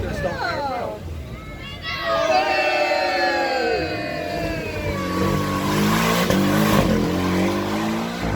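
A Porsche supercar launches hard with launch control at an outdoor supercar demo, its engine note rising in pitch as it accelerates away, heard beneath a loud cheering crowd and nearby chatter.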